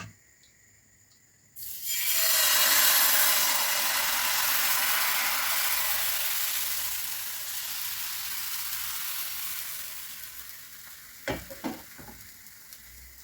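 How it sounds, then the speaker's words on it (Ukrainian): A loud, steady sizzle of water-based pancake batter hitting hot oil in a pan, starting abruptly and fading slightly, followed near the end by a few soft scraping clicks of a utensil. "починаю смажити млинці"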